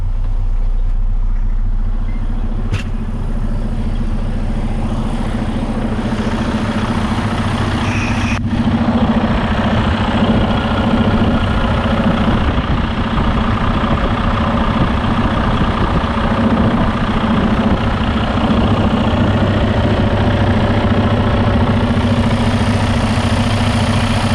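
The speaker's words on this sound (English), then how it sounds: "I'll let you go out and listen to the engine now." A 2013 Freightliner Coronado semi truck's heavy diesel engine idles steadily and loudly for the whole stretch, a deep continuous rumble with a couple of brief clanks early on.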